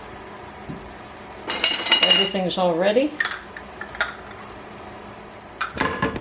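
Old glass Crown and Corona canning jars with glass lids clink and knock together in a kitchen during apple canning, in a few scattered bursts of rattling glass, with a brief spoken remark between them.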